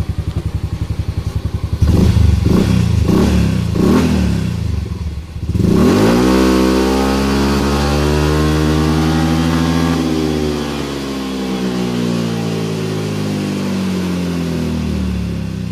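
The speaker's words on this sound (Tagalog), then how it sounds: "Tingnan natin kung ilan na yung RPM na magiging max niya." A Yamaha Mio M3 scooter engine with its rev limit unlocked. It opens with a few quick blips, then climbs in one long sustained rev toward maximum RPM, loud and close, holding high with a slight stutter near the top.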